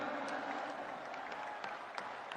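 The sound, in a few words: applause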